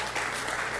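Applause from a church round-table audience, a dense steady clapping that fills the whole brief moment without pause.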